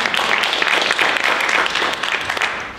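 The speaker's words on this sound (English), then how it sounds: "I want to give that an applause" A conference audience at a women's leadership and homeownership event breaks into dense, steady applause, loud and close throughout, tapering slightly at the end.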